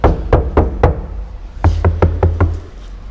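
Seven sharp knocks on a car's rear door panel, a group of three followed by a quicker run of four, each hit ringing hollow and rattly through the unsound-deadened door, close and loud.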